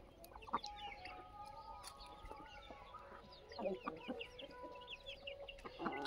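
An old desi hen clucks in short, scattered calls at close range amid a busy farmyard, with other fowl and chicken sounds around it and no clear talk.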